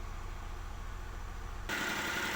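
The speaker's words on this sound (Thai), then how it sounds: "รอให้ให้กลับมาเป็นรอบเดินเบาก่อนเดี๋ยวจะให้ดูว่าเครื่องยนต์มันสั่น" A Nissan Almera engine idles with a cylinder 2 misfire, giving a steady, close mechanical drone that grows brighter and a little louder near the end.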